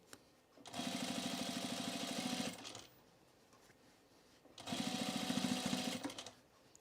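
A sewing machine edge stitches around a fabric bowl cozy in two steady whirring bursts of rapid needle rhythm, each about two seconds long, separated by a quiet pause, close and clear with no talking.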